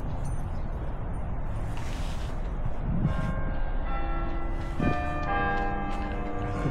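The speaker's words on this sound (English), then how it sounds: "It's the bells!" Church bells at Waltham Abbey Church in Essex ring out with sustained, overlapping metallic tones that swell after a few seconds, layered over a steady low rumble of background noise.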